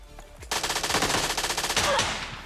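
Rapid bursts of shotgun fire in a battle royale shooter game, two close blasts to an opponent's head within dense, loud continuous gunfire that rattles on for about two seconds.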